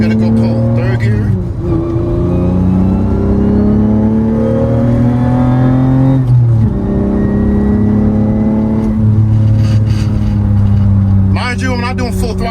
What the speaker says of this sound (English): open road, so you're gonna go pull third gear.